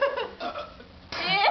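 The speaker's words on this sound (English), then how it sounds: "Whenever I try to burp." A short burst of burping during a drinking challenge, a throaty voiced belch followed by a louder, rougher one at the end, close and fairly loud.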